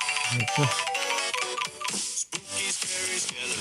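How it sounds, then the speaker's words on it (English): A phone's incoming-call ringtone plays loud and continuous, a busy electronic melody with repeating tonal phrases and one brief dropout midway, alone with no talking over it. "Like when you guys call me, this is the ring that I have."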